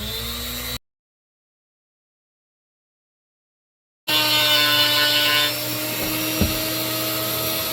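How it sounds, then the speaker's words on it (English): Dremel rotary tool carving scrap wood, a steady high-pitched grinding whine that starts abruptly after a long gap of silence and runs continuously up close, with a faint knock near the end. "Now I'm going to take my Dremel tool and start carving out the mountains."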